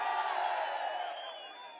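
A large crowd at a political rally roars in a sustained, distant wall of cheering and whooping that fades slightly toward the end.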